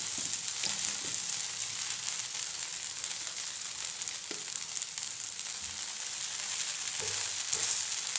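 Adai, a flatbread made with wheat flour and flattened rice, fries in oil on a pan, giving a continuous close-up sizzle and hiss with a few soft stirring or scraping touches.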